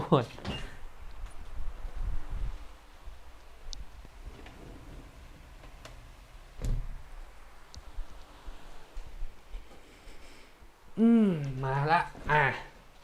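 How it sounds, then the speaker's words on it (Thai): A door is moved and shut indoors, with a few soft sliding knocks and a thud among quiet room noise, followed by a person speaking near the end. "แป๊บหนึ่งขอไปปิดประตู"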